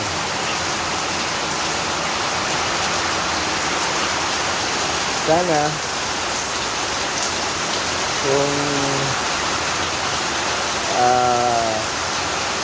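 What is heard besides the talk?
heavy rain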